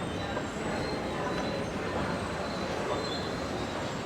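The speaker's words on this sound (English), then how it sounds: "we take the train" Train on the Sydney airport rail line running, a steady broadband rumble and rush of wheels on track with faint high squeal, continuous and fairly close, with no clear talk over it.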